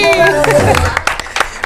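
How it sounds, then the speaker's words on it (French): On a talk show set, a person speaks and a studio audience then breaks into brief, sparse clapping, with a few sharp separate hand claps trailing off. "On applaudit."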